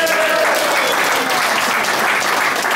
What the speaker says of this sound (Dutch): Groot applaus voor Mo.